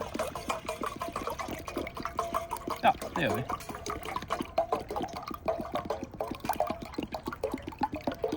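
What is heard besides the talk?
water poured in to fill a twig burner kettle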